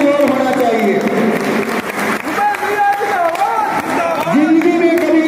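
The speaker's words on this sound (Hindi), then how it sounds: "ताली का जोर होना चाहिए।" Crowd of Aam Aadmi Party workers clapping at a meeting in Baba Fateh Singh Hall, loud and continuous, with voices and tonal sounds mixed over the applause.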